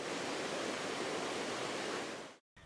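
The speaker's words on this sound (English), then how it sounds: "Nearby, there is a 10 meters waterfall before the water reaches the valley." A 10-metre waterfall in Turkana, just before the water reaches the valley. Its dense, steady rushing roar is heard alone and up close, then cuts off abruptly at the very end.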